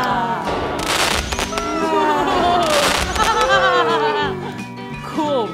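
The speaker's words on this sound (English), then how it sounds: "we're about to light the giant cupcake candles. Spoiler alert, they're actually fireworks" Giant cupcake candles that are really fireworks go off with rising whistles and crackling bursts, loud and close, while voices call out over the display.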